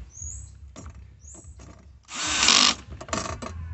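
Screws being tightened on a Sanus Vuepoint full-motion TV mount, with faint, brief tool bursts, then a louder whirring stretch lasting under a second and a few short follow-up bursts over a low room hum.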